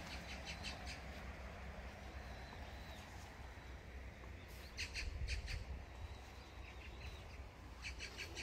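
Small birds chirp and tweet in scattered bursts by Daecheong Lake, fairly faint over a steady low outdoor rumble, with a louder cluster of calls midway.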